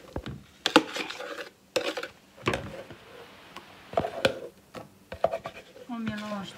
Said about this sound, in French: Maintenant, on prend les blancs d'œufs et on mélange tout.